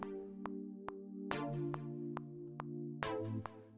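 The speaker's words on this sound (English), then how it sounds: "I could hit pluck, and then I could get, like hybrid attacker" A Logic Pro synthesizer pluck preset plays a rhythmic pattern of short, bright percussive attacks over sustained tonal chords, clean and alone with no voices.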